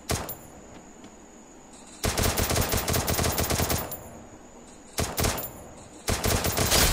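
Rapid automatic gunfire from the Free Fire mobile battle-royale game comes in loud, sustained bursts separated by quieter gaps of in-game ambience, with the last burst cutting off abruptly.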